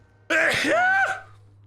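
A single sharp, voiced sneeze close by, rising then falling, over a faint low hum.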